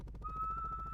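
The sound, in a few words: whistle in the video game Dinkum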